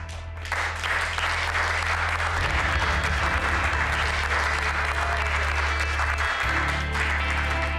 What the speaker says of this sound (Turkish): Alkışlasanız oğlum.